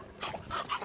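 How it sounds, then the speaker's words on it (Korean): A puppy gives short whimpering yips in two or three brief bursts, close by, with no speech over them. "원래 내 강아지였는데"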